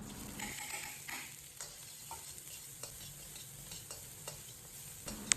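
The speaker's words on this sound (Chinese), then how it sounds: "另起锅，放入少许油，油热以后放入准备好的小料，" Aromatics stir-frying in a little hot oil in a wok, a steady faint sizzle broken by regular scrapes and taps of the spatula, heard alone without talk.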